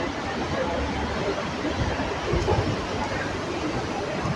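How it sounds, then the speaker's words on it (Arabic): Riding the Marmaray metro line in Istanbul: a dense, continuous rumble and roar of the moving train fills the carriage, steady and loud throughout. "احنا دلوقتي في خط مترو مرمراي حاليا"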